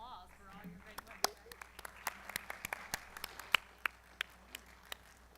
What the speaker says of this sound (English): give yourselves a round of applause for all your great work